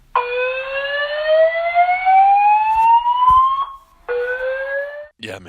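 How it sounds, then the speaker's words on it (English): A building fire alarm sounds loud and close, a rising siren-like whoop that sweeps upward, breaks off and starts again. "You hear that go off and you think, come on, it's nothing, right? False alarm, false alarm."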